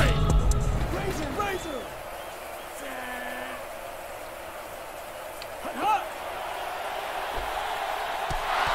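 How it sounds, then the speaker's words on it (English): Stadium crowd in a football video game roars as a steady, broad wash of cheering that swells briefly near the start and stays at a constant level, with voices talking over it. "Man, that crowd's really into it,"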